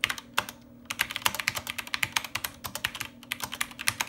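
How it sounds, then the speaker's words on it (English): Rapid, uneven typing on a computer keyboard into the SWTPC 6800 editor, crisp close key clicks in bursts with a brief pause, no voices. "So I can just type anything I want."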